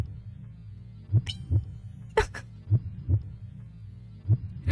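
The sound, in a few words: heartbeat sound in the video game Z.A.T.O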